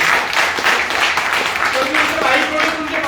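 An audience at a Modicare training session claps together in a dense, steady wash of applause that holds for a few seconds, with voices mixed into the crowd noise.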